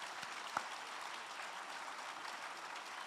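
Applause from an event audience after a panel discussion, a faint, even spatter of clapping heard from a distance, sustained throughout with one brief louder knock.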